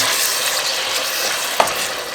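Loud, steady sizzling of chicken with ground black pepper frying in a pan, a continuous crackling hiss with one brief clink near the end.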